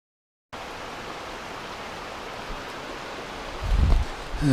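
Little Bear Creek flows into the larger Bear Creek near a bridge, heard as a steady, broadband rushing wash of water after a brief silent start, with a short louder bump near the end.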